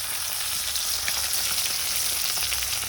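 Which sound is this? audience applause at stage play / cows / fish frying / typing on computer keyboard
fish frying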